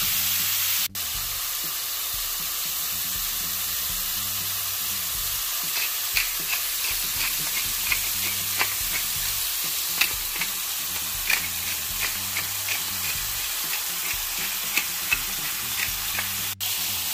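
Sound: stirring and browning meat in the Always Pan

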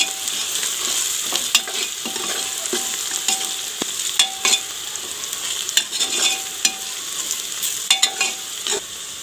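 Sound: frying spices for tari chicken in pressure cooker

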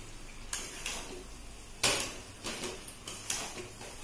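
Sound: dry chicken with garam masala frying in a pan

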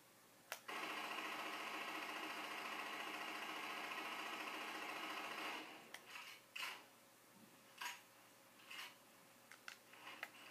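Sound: rapid rifle gunfire in Halo 4 video game

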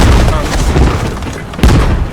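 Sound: tank exploding in the video game Squad

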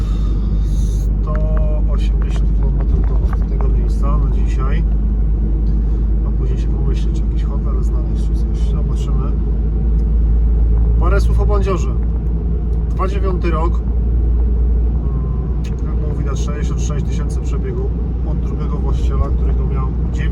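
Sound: car driving on road

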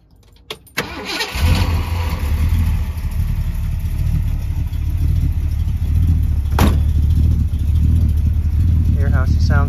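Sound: 1964 Ford Galaxie 500 engine starting and idling

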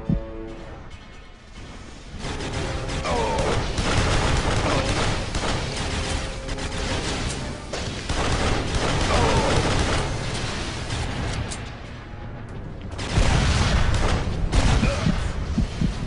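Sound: pistol gunfire in the video game Duke Nukem Forever

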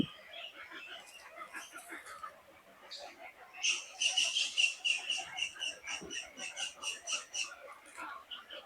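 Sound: migratory birds calling at a pond

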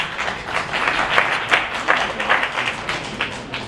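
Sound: audience clapping

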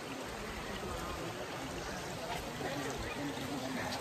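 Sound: Bhivpuri waterfall water flowing

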